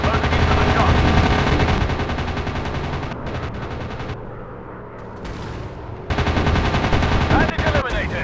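Rapid bursts of aircraft machine gun fire in a WW2 dogfight video game, loud and continuous, easing briefly in the middle before resuming, with engine drone beneath.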